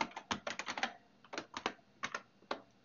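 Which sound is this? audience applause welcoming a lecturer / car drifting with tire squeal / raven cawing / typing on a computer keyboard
typing on a computer keyboard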